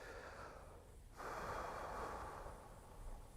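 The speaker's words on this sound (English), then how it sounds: "take a deep breath" A deep inhaled breath taken by a shooter before a precision rifle shot, a close, airy rush swelling after about a second and held steady to the end.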